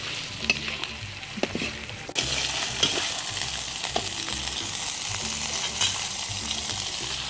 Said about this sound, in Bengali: এই এই যে কাঁচামরিচ আর পেঁয়াজ নাড়ছে এখন নুহা